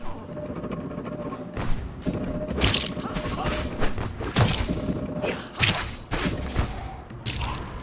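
An unmanned cannon in a video game fires repeatedly, producing heavy booming thuds and whooshes at irregular intervals over a loud, dense game soundscape.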